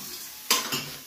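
Food with coriander cooking in a pan, stirred in three loud, brief scraping bursts over a quiet background, with no talking.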